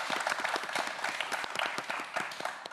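Studio audience on a Korean TV quiz show applauds a student contestant, a steady, dense wash of clapping filling the short moment at moderate level with no voices over it.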